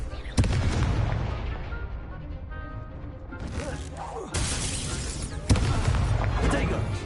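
A Confringo fire spell in Hogwarts Legacy, with sharp booming blasts and crackling bursts landing in quick succession over rumbling battle noise.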